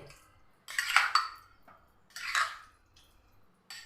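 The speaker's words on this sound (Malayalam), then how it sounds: "ഏലക്കാപ്പൊടിയും കൂടെ ചേർത്തിട്ട് നമുക്കിതൊന്ന് നല്ലപോലെ ഒന്ന് മിക്സ് ചെയ്ത് വെക്കാം" A spoon clinks and scrapes against a glass or bowl while cardamom powder is mixed into arrowroot sharbat, two short separate bursts of stirring, close and fairly quiet.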